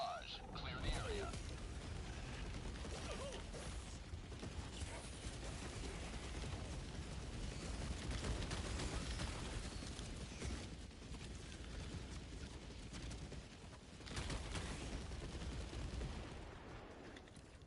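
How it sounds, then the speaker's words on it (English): Orbital barrage explosions in the video game Helldivers pound continuously for the whole stretch, a dense dull roar of blasts and rumble with a few louder surges, while voices talk over it. "Firing orbital barrage."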